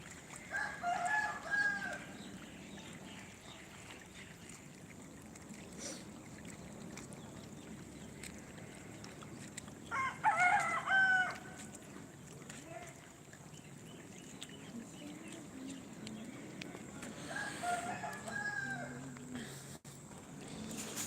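A rooster crows three times at intervals on a morning walk, moderately near, while people talk in Hindi and outdoor background noise continues between the calls.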